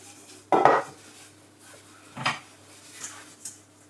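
A bowl is handled and set down with two distinct clattering knocks, the first louder, followed by a couple of faint light clinks in a quiet room.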